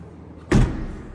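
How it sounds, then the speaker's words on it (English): Door of a 1959 Hillman Husky sedan delivery with new door seals being shut firmly: a single solid, close thump after a brief quiet moment, followed by a short fading rattle. "you need to close the door firmly"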